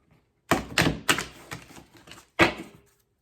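Oracle cards from an Archangel deck are riffled and tapped in a quiet room, several sharp papery slaps and a rustling burst close to the mic, with a final crisp snap after a short pause.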